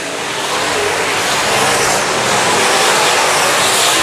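Race cars at Valley Speedway roar past in a loud, sustained wash of engine noise that swells as the pack sweeps through the turns.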